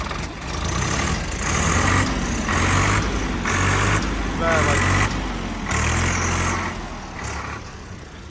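A Swaraj 855 three-speed tractor is driven inside a shed, its diesel engine giving a steady low rumble that swells and eases in pulses, with people talking over it.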